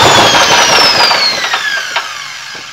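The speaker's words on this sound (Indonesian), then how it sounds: "dengan sekali engkol mesin gerinda bisa menyala" A petrol generator cranked and running under throttle, powering an angle grinder: a loud, dense mechanical roar with a high whine sliding slowly downward, fading somewhat over a few seconds.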